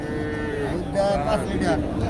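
A dairy cow at a busy cattle market in Deohata, Tangail, gives a single drawn-out moo that rises and wavers over the steady crowd murmur of the market.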